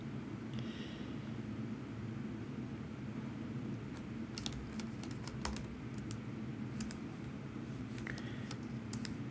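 Keys tap on a computer keyboard in short irregular bursts during coding work, over a steady low background hum, with no one speaking.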